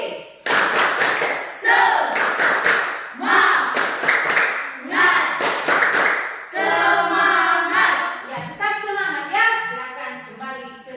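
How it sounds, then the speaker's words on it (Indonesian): A school class claps for a presenting group in a rhythmic cheer pattern, several short bursts of synchronized clapping separated by pauses, with children's voices chanting along toward the end. "Tepuk semangat untuk kelompok D."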